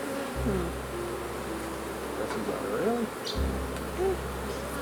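Honey bees buzz around opened brood frames during an inspection of Flow and Langstroth hives. A steady, dense swarm hum stays close to the microphone throughout, and a low rumble sits underneath it.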